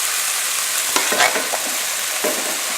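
Sliced peppers sizzle steadily in a hot pan for a sausage-and-peppers dish, with a few scraping stirs and clatters breaking through the constant close frying hiss.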